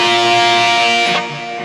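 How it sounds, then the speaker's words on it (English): Electric guitar rings out as a loud sustained chord, then drops away into a softer tail of reverb and delay echoes. "And then you hear the little trailing of the reverb and delay."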